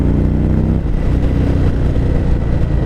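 Nearby, an Indian Springfield Dark Horse motorcycle's V-twin engine pulls harder, its deep rumble shifting pitch and roughening as it accelerates, loud and steady.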